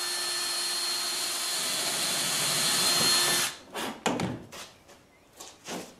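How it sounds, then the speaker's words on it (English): A power drill whines steadily for about three and a half seconds while drilling a pilot hole in wood, then cuts off, followed by a few short knocks and handling clatters. "I'm going to drill my first pilot hole."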